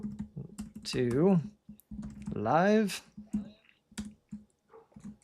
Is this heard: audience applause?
no